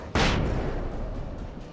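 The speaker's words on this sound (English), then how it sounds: "This is the most accurate description of flashbang that I've seen in video gaming." A single loud, close blast from a flashbang grenade in the video game Alan Wake, with a sharp burst followed by a long booming, ringing decay that fades slowly.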